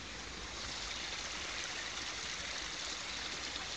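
A mountain stream swollen after rain rushes steadily in a continuous broadband wash of flowing water, close and even throughout.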